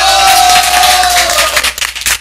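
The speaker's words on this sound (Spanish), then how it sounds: "Y eso merece un aplauso" A television variety-show studio audience breaks into brief applause and cheering, with a sustained tone sounding over the crowd at first before scattered claps take over.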